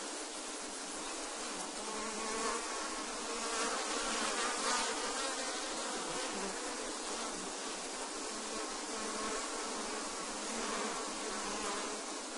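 Honey bees buzz densely at an open hive during frame work, a steady close drone of many wings that stays constant and unbroken throughout.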